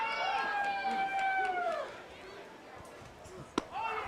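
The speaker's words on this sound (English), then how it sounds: "crowd coming to life a bit as well" Baseball crowd at a college championship game between Henderson State and Arkansas Tech rises in cheers after a 3-run home run, a brief swelling roar with whistles under nearby talk, then a sharp clap-like hit.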